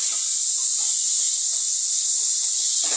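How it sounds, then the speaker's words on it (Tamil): Onions sautéing in a pan for a vegetable kurma, a steady loud sizzling hiss held close throughout with faint soft pops underneath. "வெங்காயம் இன்னும் கொஞ்சம் நேரம் வதங்கட்டும்"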